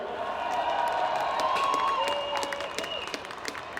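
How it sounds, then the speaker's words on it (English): Crowd applause with a few cheers for the winning hurling team at the Bray Emmets v Carnew Emmets senior final, moderately distant and steady, with a faint tonal hum running underneath. "So give yourselves a round of applause"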